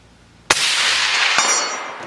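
Suppressed AR-10 rifle shot striking a steel target plate: one sharp crack followed by a long, bright metallic ring that slowly decays, with a second fainter tick partway through, loud and distinct, no talking.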